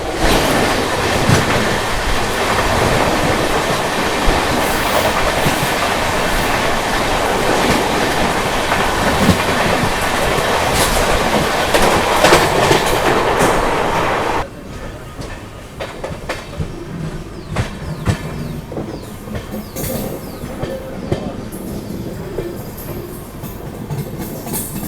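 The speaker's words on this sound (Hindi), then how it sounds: "सामने से आ रही है 12398 न्यू दिल्ली गया महाबोधि एक्सप्रेस आती हुई" The 12398 New Delhi–Gaya Mahabodhi Express passes loudly nearby with a roaring rumble and rhythmic clickety-clack of wheels on rail joints, then drops to a quieter rattle of passing coaches.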